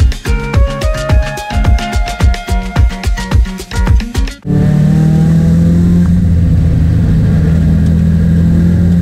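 A turbocharged time-attack car engine at a lakeside circuit, heard up close: it climbs through a series of rapid revving pulses, gear after gear. Then it cuts to a steady, loud, high-rpm drone under boost.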